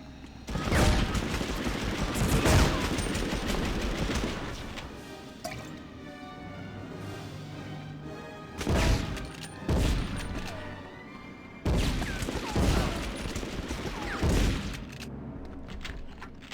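Shotgun blasts in the PlayStation 1 game Medal of Honor: several loud, sharp booms spaced a few seconds apart, each trailing off, over quieter in-game ambience.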